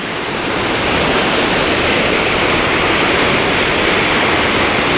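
Eas Mor waterfall at Kildonan running hard after heavy overnight rain, a loud steady roar of falling water that fills the whole clip, close by, with no voices.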